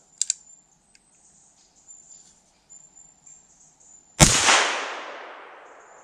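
A single sharp shot from a Chiappa Little Badger .22 Magnum rifle cracks loudly near the end, its echo decaying over a couple of seconds after a quiet stretch with faint insect chirping.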